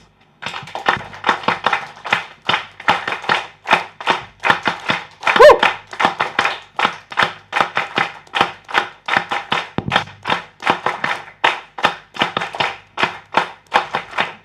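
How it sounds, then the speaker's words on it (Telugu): At a business networking meeting, a group claps together in a steady, even rhythm of about three claps per second. The sound stays loud and evenly spaced throughout, with a brief louder knock near the middle. "small rhythm of the claps for 30 seconds please"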